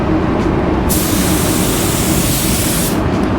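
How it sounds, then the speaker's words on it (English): A spray gun lays down waterborne base coat paint: a steady, loud hiss that starts abruptly, holds for about two seconds and cuts off, over a constant background roar, with no speech. "you can spray it a million different ways"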